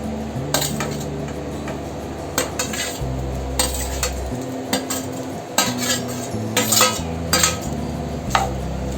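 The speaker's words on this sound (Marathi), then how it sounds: "आता छानपैकी परतवून घ्यायचंय त्याचा कच्चापणा जाईपर्यंत अगदी सुंदर परतवून घ्यायचं आहे" Grated coconut sautéed in melted ghee for traditional turmeric-leaf patolya, with repeated scraping and clinking of a utensil against the pan over a low background hum and faint sizzle.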